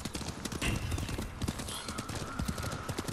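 Horse hooves pounding in Ghost of Tsushima, a quick irregular clatter of galloping steps under a noisy battle-like ambience, moderately loud and continuous for a few seconds.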